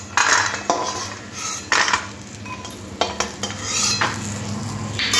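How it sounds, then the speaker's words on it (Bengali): Urad dal bori frying in oil in a wok, with metal utensil scrapes and stirring clatter over a steady low sizzle, several sharp bursts of clinking spread through. "কড়ার মধ্যে তেল দিয়ে আর কয়েকটা বিউলির ডালের বড়ি লাল লাল করে তেলের মধ্যে দিয়ে ভেজে নিতে হবে।"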